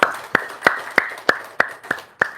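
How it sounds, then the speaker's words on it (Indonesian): Eight crisp, evenly spaced claps ring out close by in a steady beat, with no talking over them, from an audience at a gathering. "Tepuk tangan dong dari Lampung."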